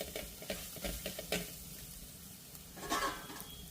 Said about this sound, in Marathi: त्याच्यामध्ये थोडीशी हळद आणि परतून घेऊया थोडंसं